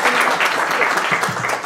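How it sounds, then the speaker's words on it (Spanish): At a tax defense conference event, an audience gives a speaker a strong welcoming applause, a short, loud burst of dense clapping heard up close. "Les pido por favor un fuerte aplauso para darle la bienvenida."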